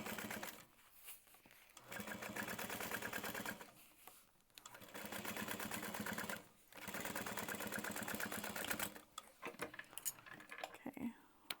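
Sewing machine top stitching through a bulky accent panel seam, steady close rapid needle chatter in three long runs with brief pauses between, faint and alone.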